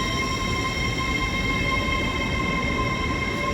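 A Class 801 train departing Doncaster station hums and whines steadily with a continuous electric tone and rumbling wheels, close by and loud, with no voices.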